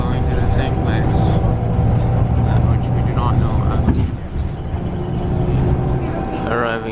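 Buses rumble along a nearly empty Birmingham road during lockdown, a steady loud engine and tyre drone throughout, with a voice talking over it.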